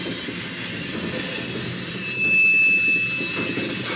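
OC&T freight train of grain hopper cars passes through a freight yard in Titusville, giving a steady rumbling roll with faint wheel squeal and a slight swell in loudness midway.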